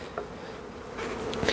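Honeybees swarming inside a hive opened on the coast in early spring, heard as a steady close buzzing drone throughout.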